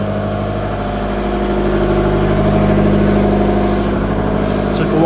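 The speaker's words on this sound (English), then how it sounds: "There's a steam engine again." Steam engine running in the engine room of the SS Explorer, a loud, steady mechanical hum and rhythmic thrum that holds an even level throughout with no talk.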